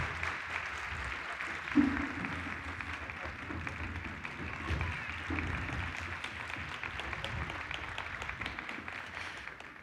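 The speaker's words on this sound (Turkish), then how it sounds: "Şimdi alkışlarınızla bu akşamı huzurlarınıza hazırlayan koro şefi Sayın Hamit Gazigil'i sahneye davet ediyorum" Audience applause welcoming the choir conductor onto the stage at a Turkish folk music concert in a hall, a steady sustained wash of clapping lasting throughout.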